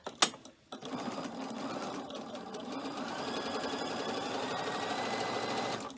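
A sewing machine stitches down the side of a cork messenger bag, a close, continuous whirring hum that starts after a brief knock and runs steadily to the end of the clip.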